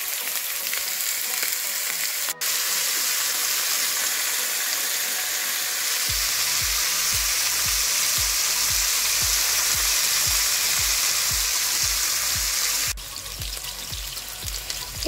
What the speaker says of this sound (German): Das Ganze braten wir auch noch etwas mit an